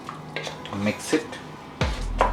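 Wet clinking and scraping of a spoon stirring breadfruit beef curry with thick coconut milk in a pot, several short close strokes followed by a low bubbling simmer, with a voice speaking over it.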